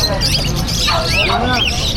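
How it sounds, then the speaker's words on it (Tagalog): Many caged birds at a pet market chirping and squawking in overlapping calls, with a person talking over them at close range. "Grabe, ang daming ibon, boss, ngayon ah"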